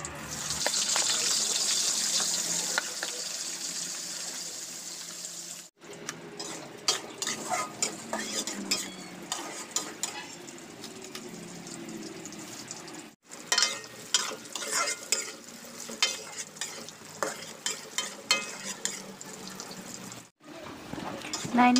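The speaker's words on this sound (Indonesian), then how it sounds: "Kita goreng juga terongnya." Eggplant frying in hot oil gives a steady, fairly soft sizzle and crackle, broken by stirring clatter of a utensil against the pan in several bursts.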